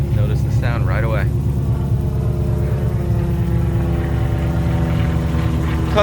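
A 1967 Ford Mustang Fastback with a 302 V8 and Flowmaster exhaust idles in a deep, steady, lumpy burble close by, with brief talk early on.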